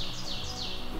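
Birds chirp outdoors at an old 1700s cellar hole site in the woods, a run of quick, high, repeated calls at moderate volume over faint background noise.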